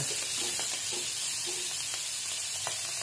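Fried beef sizzling in a pan with sautéed onion for bistek tagalog, a steady close hiss of frying with a few soft stirring clicks and scrapes, no talk.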